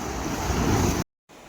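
Waves wash against the rocks of a jetty as the tide comes in, a steady broadband surf roar with wind, close and loud, ending in a short sudden dropout before the rush resumes.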